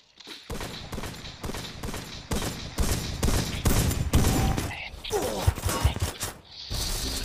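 Rapid gunfire in a shooting video game, a long run of sharp, evenly spaced loud shots close by that breaks up into scattered bursts and mechanical clatter toward the end.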